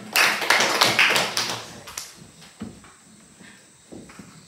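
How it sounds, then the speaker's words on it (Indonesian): Seventh-grade students in a classroom clap in a quick, close burst of sharp claps that thins out after about two seconds, leaving a few scattered taps and soft room noise. "Silakan tepuk tangan."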